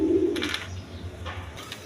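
A pair of beauty pigeons coo close by in a low, throaty run that fades after the first half second, with faint rustling and scattered higher sounds behind them.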